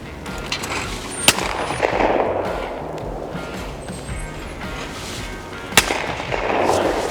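Shotgun shots at sporting clays report pairs outdoors: two sharp, loud reports several seconds apart, with open-air background noise between them.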